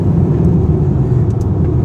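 A Honda Civic FC 1.8 fitted with an HKS exhaust idles in a steady, loud low rumble that holds without a break, with no voices.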